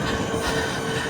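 A UK train on the London Outer Orbital Path, heard as a steady, loud rumble of rolling rail wagons with faint wheel squeal, continuous and unbroken through the short stretch.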